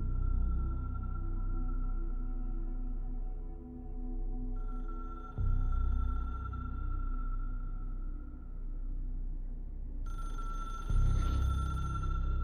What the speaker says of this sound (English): Sure is a phone.